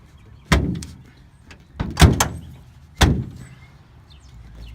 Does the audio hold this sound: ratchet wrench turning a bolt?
no